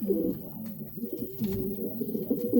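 Pigeons kept in a home loft coo in a steady, continuous low burble, several birds overlapping close by with no voices.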